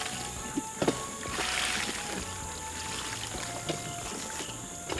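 Water poured onto raspberry plants in a garden patch, a continuous rushing splash with a few sharp knocks and clunks, steady and fairly close with no voices.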